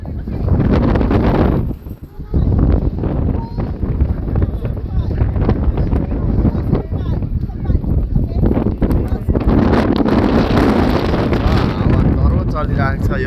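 Strong wind gusts outside Beijing's National Stadium buffet the microphone in loud, rumbling blasts, with people talking over it throughout.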